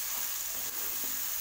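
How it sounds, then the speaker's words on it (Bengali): Onion paste frying in a pan, a faint, even sizzling hiss that holds steady for a moment with no voices. "এবার পেঁয়াজটাকে একটু ভেজে নিচ্ছি"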